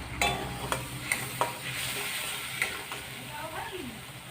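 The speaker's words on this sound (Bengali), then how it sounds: "এবার আমি মশলাটাকে ভালো করে কষিয়ে নেব জল দিয়ে দিয়ে।" Spiced masala of red chilli, coriander and cumin powder frying in a pan for a Bengali parshe fish curry, with a low sizzle under sharp clinks of a spoon stirring against the metal at irregular moments.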